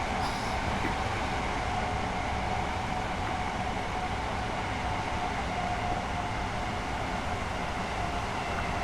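A Class 800 train runs steadily in Train Sim World 4 on the line into Reading, giving a continuous, even rumble and rush of wheels and motion at constant loudness, with no talking.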